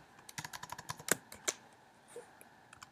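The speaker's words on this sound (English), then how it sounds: "I type something in it." Fingers tap on a computer keyboard in a quiet room, a quick burst of light, irregular key clicks with one or two sharper strikes.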